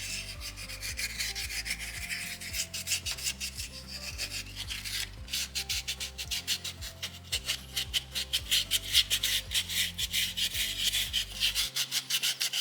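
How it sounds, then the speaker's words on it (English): Sandpaper pushed by thumb across a soapstone owl carving, a close, continuous rhythmic rubbing and scratching in quick strokes, with no voices. "I like using my thumb to push my sandpaper around."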